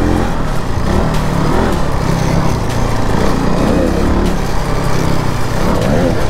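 Kawasaki Z1000 superbike doing a burnout on slippery ground, engine droning loud and steady with a rough, gritty roar of spinning tyre throughout, close by.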